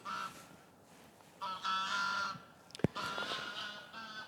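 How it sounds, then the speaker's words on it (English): Geese honking outdoors, a few repeated nasal honks and calls at moderate distance, with one sharp click partway through. "Sounds like the geese disagree."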